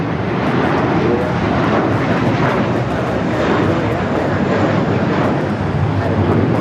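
A jet airliner takes off from runway 25 right at LAX, its engine roar steady, loud and continuous throughout, with a broad rushing noise filling the whole stretch and no voices.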